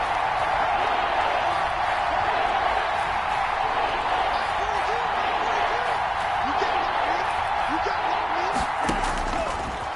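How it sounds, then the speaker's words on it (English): A stadium crowd in a PS4 American football game roars in a constant, dense wash of cheering and noise, with a commentator's voice talking over it throughout. "the crowd getting into it as we come up on a big 3rd down."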